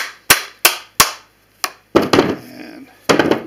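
Hammer blows on a Jeep Cherokee drivetrain part, several sharp loud metallic whacks, three evenly spaced, then a lighter tap and a further pair of heavier hits with some rattle, close up.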